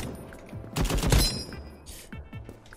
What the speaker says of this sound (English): We've got the Spearmint rifle on standby. Sandstorm. Oh, this gun is deadly and loud.